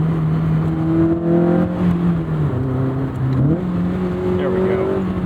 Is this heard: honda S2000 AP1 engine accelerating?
yes